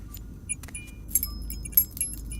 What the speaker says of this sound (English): I walked over to the table and grabbed the keys.